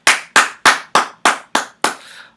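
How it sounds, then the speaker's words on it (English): Seven sharp hand claps from one person, close and evenly spaced about a third of a second apart, with a little room echo after the last clap. "I give them a round of applause."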